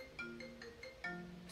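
A phone ringtone plays through a Mac computer, a quiet repeating electronic melody of short tonal notes in a steady pattern, heard alone.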